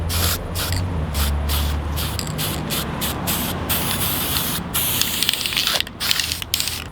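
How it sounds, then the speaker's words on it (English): Aerosol end-cut reseal product sprays onto the cut top of a timber fence post in steady hissing bursts with short gaps between them, close and fairly loud, no talk. "we just want to seal our post up with some end cut reseal product."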